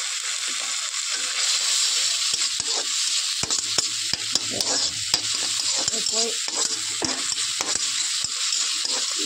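Amaranth and spinach greens sizzling in a hot pan while being stirred, with scraping strokes and occasional sharp clicks of a utensil against the pan.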